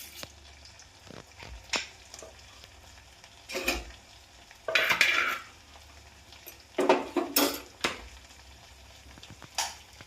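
Mustard and fenugreek seeds pop in hot coconut oil in a pan for a Kerala fish curry, making sharp crackling bursts that come in several loud clusters over a quieter sizzling bed of oil.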